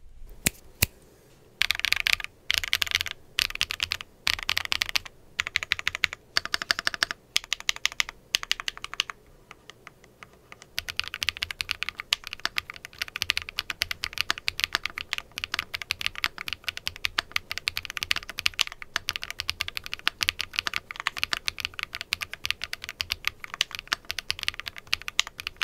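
Keys clatter on an Epomaker Tide75 mechanical keyboard, first in separate spaced clicks and then in fast continuous typing, crisp and close with nothing else heard.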